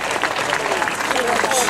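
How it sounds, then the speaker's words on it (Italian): Dense audience applause at an Italian comedy show, a steady wash of clapping with voices mixed in under it for a couple of seconds. "Fate un applauso alla tecnologia, dai."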